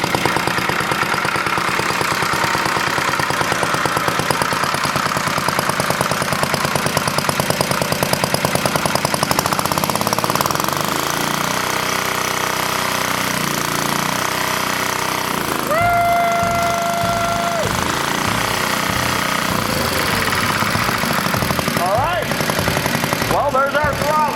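A 1953 reel mower engine runs at idle in a shop with a steady, loud, chugging drone that shifts in tone partway through, and a voice is faintly present beneath it.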